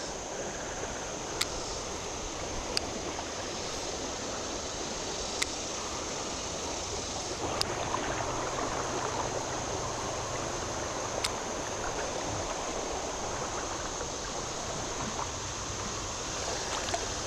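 Fast-flowing water in a Kentucky creek rushes steadily and close by, a continuous broadband hiss and gurgle with a few faint clicks and no speech.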